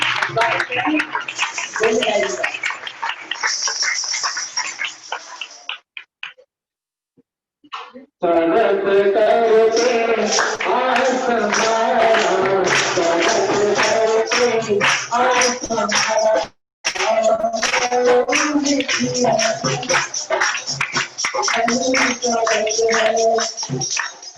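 Loud, sustained applause from the audience at a religious study seminar in Swadhyay Bhavan, Usmanpura. The clapping runs unbroken with brief gaps, and voices or tonal sound mix underneath.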